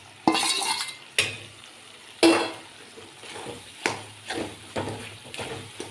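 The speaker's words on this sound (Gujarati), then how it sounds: "પછી એને પણ આપણે એકદમ આ મસાલા સાથે સરસ મિક્સ કરી દઈશું." Roasted brinjal being stirred into masala in a pan for Kathiyawadi ringan no oro, heard as a series of close, scraping spoon strokes with a faint sizzle underneath, repeating roughly every second.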